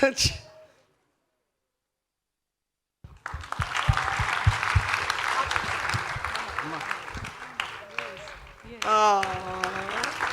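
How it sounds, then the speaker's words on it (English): An audience at an interview event with Indian Air Force personnel breaks into sustained applause after a few seconds of silence, the clapping steady and fairly close, with voices calling out over it toward the end. "You also deserve a round of applause"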